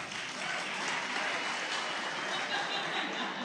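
Faint, brief scattered clapping from an audience at a political forum, a soft steady patter heard at a distance.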